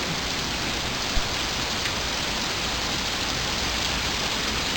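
Steady rain falls in a hot place near a boat, a dense, even hiss of drops on surfaces continuing throughout with no voices.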